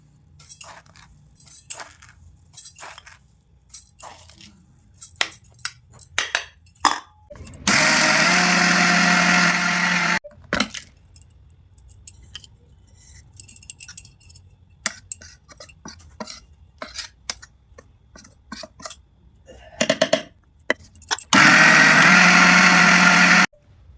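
A kitchen mixer grinder grinds soaked rice into flour in two loud, steady whirring bursts, each a few seconds long. Between them come clattering and knocking of the jar and utensils up close.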